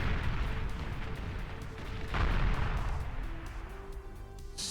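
Artillery fire from Tumbleweed units pounding a tank force in the strategy game Beyond All Reason, a dense continuous rumble of booms and blasts with scattered sharp impacts, steady and heavy throughout.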